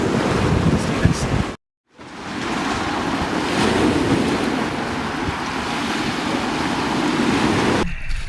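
Continuous roar of ocean surf and breaking waves with heavy wind buffeting the microphone, loud and close, while surfing in freezing water; a brief dropout cuts the sound near the start.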